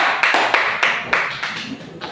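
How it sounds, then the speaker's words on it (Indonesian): Classroom students give a group a brief round of applause: about seven distinct bursts of clapping, close and moderately loud, with no speech. "mari kita beri tepuk tangan yang meriah untuk kelompok"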